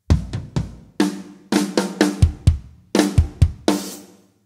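A drum fill closing a section of a song, played on a kit: a quick run of about a dozen punchy tom and snare hits in an uneven rhythm, ending on a cymbal crash that rings out and fades.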